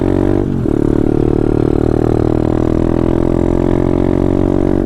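A pit bike engine runs steadily while being ridden out toward a hill at sunset, a loud, close, continuous mid-pitched drone with a brief dip near the start, and no talking.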